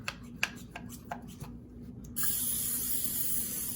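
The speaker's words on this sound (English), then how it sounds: "I'm just going to give these a nice mist of olive oil." A few faint taps and rustles give way to a steady, close hiss of olive oil spray misting raw chicken pieces, held for over a second with no talk.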